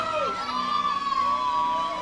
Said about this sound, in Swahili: Wapi shangwe na vigelegele ya Bishop Ben?